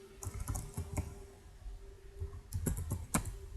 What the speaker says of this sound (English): I'm trying to type in the box here.